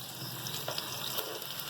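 Onions, ginger and garlic with cloves and cardamom frying in a pan for kofta curry, a faint continuous hiss and crackle with soft stirring, quiet and unbroken.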